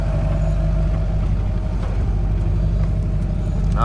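Homemade overland RV engine pulling through bushes, a loud, steady low drone from close by with faint scraping and brushing sounds over it.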